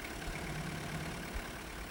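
A Rover 100 diesel engine idles at about 775 rpm, a steady, even mechanical rumble heard close and alone, with no change in pace over the short stretch.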